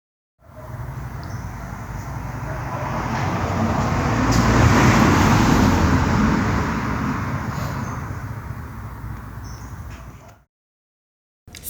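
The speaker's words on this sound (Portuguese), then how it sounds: "Acertou quem disse que é um carro passando na rua." A car passes along a street, its engine and tyre rush swelling from faint to loud at the midpoint and then fading away, steady and alone for about ten seconds.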